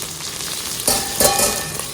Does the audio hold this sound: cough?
no